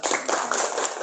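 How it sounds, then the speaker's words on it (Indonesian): Classroom of students clapping for group 3, a brief, steady burst of many hands clapping close by with no talk. "Ya, tepuk tangan."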